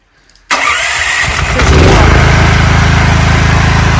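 A Daewoo 7.5 kW portable petrol generator with AVR cranks and catches after a brief quiet moment, then settles into a loud, steady, buzzing run.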